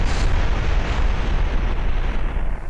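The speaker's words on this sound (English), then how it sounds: "Look at the explosions." Continuous loud rumbling blasts and crackling booms in the Dragon Ball Unreal demo game, dense and sustained throughout, with a broad roaring wash like repeated explosions up close.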